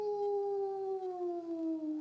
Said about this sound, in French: un hurlement retentit dans la montagne. C'était le loup.